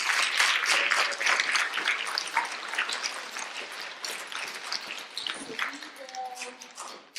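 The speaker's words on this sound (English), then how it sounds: "Round of applause for all of our shining stars." An audience claps for honored shining stars, with loud, dense applause at first that slowly thins and quiets, while a voice talks over the later part.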